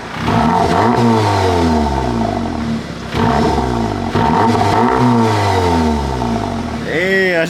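Volkswagen Golf R fitted with a Milltek aftermarket exhaust, revving loudly and close with a deep rumble that rises and falls in repeated surges, people talking over it.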